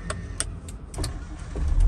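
Mitsubishi Lancer MX started with a push-button start, a few clicks and relay ticks followed by the engine cranking and catching, with a low rumble rising at the end.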